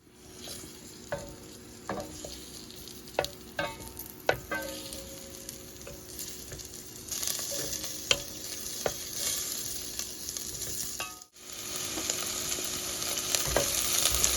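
Onions sizzle gently in a pot over low heat, a soft continuous frying hiss broken by occasional stirring clicks and taps, with no talking.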